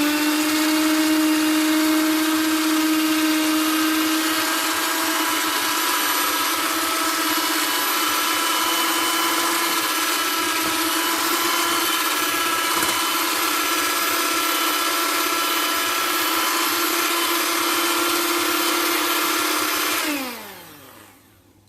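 An electric mixer beating sponge cake batter with baking powder on a low speed, giving a steady close motor whine that holds for about twenty seconds and then winds down and stops.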